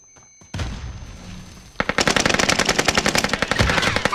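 Rapid automatic gunfire in a Call of Duty Warzone Plunder match: a short burst and muffled rumble, then a dense, loud stream of close shots rattling continuously to the end, with no speech.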